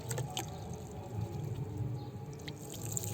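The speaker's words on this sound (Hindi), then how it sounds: "तो इस तरह से पानी दे देना है इसको।" Water being poured from above onto soil in a pot sown with radish seeds, a soft steady trickle with small drips and splashes, fairly quiet and close, with no talking.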